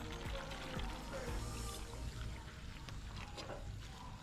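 Water poured into a cooking pot over an outdoor rural fire in St. Elizabeth, Jamaica, a continuous splashing pour with faint voices in the background.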